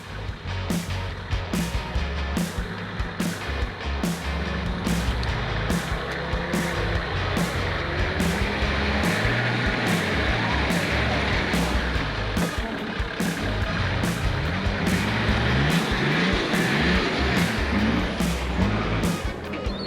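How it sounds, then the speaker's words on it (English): Nissan Patrol 4x4 crossing a creek on the Old Telegraph Track in Cape York, engine droning steadily close by with splashing water and rumbling throughout, continuous and fairly loud. "Here comes Brad in the patrol."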